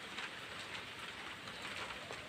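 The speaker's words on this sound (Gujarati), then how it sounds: "જો કેટલો બધો વરસાદ આવ્યો" Heavy rain pours down over a village, a dense, even hiss of drops hitting surfaces that runs without pause, soft and steady.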